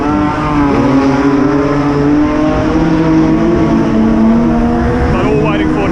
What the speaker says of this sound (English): We've got a few cars down track just to do a few hot laps to try and clean the racing surface up.